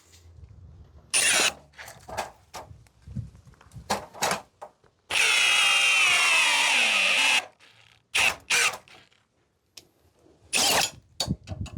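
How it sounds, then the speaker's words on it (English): A power drill drives a rivet nut in a self-made tool setup, with one sustained whirring run of about two seconds amid short clicks, clanks and handling knocks. "I'm gonna do it with a drill."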